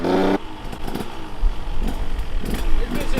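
A 125cc two-stroke dirt bike engine, kicked over and then revved in rough, uneven bursts, loud and close, with rumbling low-end pulses and brief harsh surges.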